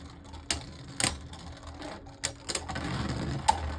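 Beyblade Burst spinning tops battling in a stadium, sharp clacking impacts and clicks scattered irregularly over a low whirring hum, close and moderately loud with no voices.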